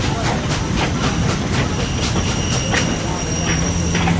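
A train rolls into a station with steady rail noise and a rhythmic clickety-clack of wheels over the track. Brief high wheel squeals sound over it, loud and continuous, with no talk.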